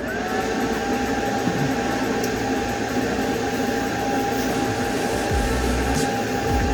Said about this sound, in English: let's turn the welder on and go over to display